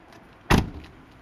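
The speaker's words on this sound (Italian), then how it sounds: "chiudiamo pure le porte" Single car door of a Fiat Panda 4x4 shutting with a solid thud, one short close impact with a brief decay, alone with no talk.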